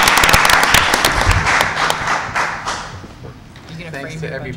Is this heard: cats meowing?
no